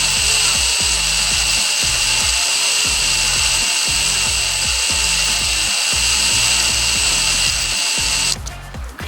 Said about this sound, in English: That means that bit's biting down in there, and it's getting that metal out.